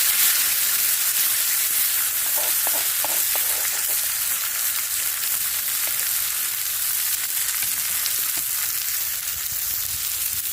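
Fish fries on a banana leaf in hot coconut oil, with a loud, even sizzle and hiss that holds steady throughout. Faint clicks of handling sound early on, and no one speaks.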